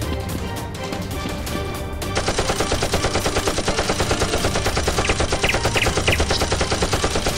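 Toy Nerf guns firing in a rapid, rhythmic burst that starts abruptly partway through and stays loud and dense to the end, after a stretch of busy, noisy action.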